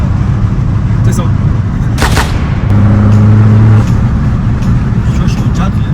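An Abarth car engine revs with its exhaust valves closed, a muffled rising drone that swells for about a second partway through, with steady road rumble and people talking over it.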